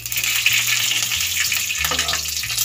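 Dried red chilli, nigella seeds and a split green chilli sizzle in hot oil as a tempering for a fenugreek leaf and brinjal dish, a loud, close, steady hiss with faint crackles and a low hum beneath.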